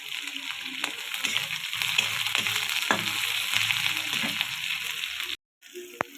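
Chopped onions and green chillies fry in hot oil with cumin seeds, giving a close, steady sizzle with stirring scrapes. The sizzle cuts out briefly near the end, then returns.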